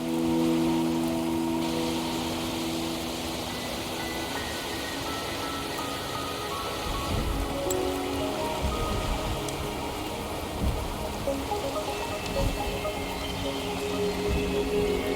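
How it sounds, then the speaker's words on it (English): Steady rain hisses down in the game Wuthering Waves, a dense, even wash of sound that holds throughout with faint low rumbles beneath. "The rain is subsiding, and the sky will soon clear."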